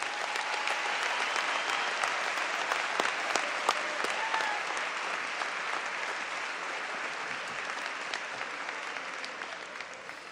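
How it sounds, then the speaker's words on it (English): Sustained audience applause at a university graduation ceremony for social sciences degrees, steady dense clapping filling the hall for about ten seconds before slowly thinning. "Let's give them a round of applause."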